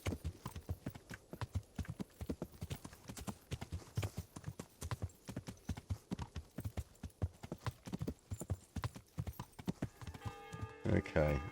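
Horse hooves clip-clopping in the medieval game Kingdom Come: Deliverance, a steady, rhythmic trot of close, distinct hoof strikes that continues throughout, with a brief jingling clatter near the end.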